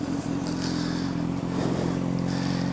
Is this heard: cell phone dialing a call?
no